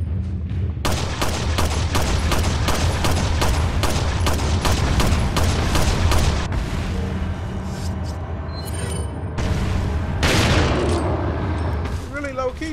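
Gunfire in Resident Evil 4, a loud rapid volley of repeated shots in quick succession for several seconds, then heavier booming blasts and scattered impacts amid busy game noise.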